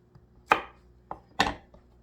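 A knife chops garlic and tomato on a cutting board, three sharp, close thuds with a fainter tap between, in a quiet kitchen.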